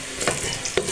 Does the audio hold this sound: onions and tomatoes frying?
yes